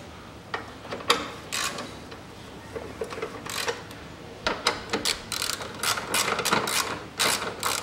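A ratchet wrench clicks in quick bursts as side bolts are tightened while a radiator is refitted on a 2004 Nissan March, the close, sharp ratcheting coming in short runs separated by pauses.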